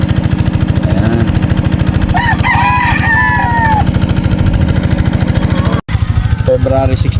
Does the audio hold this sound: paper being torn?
no